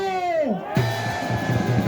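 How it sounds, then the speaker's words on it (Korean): Crowd at an outdoor Korean political rally shouting and cheering, loud voiced yells with a brief whistle-like rising tone, a sustained mass of cheering voices after a sharp onset, near and energetic. "여러분 크게 함성 한번 보내주십시오."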